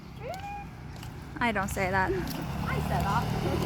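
A small cat on a street gives a few short, high meows, thin and moderately close, heard amid people talking and a low background rumble of the street.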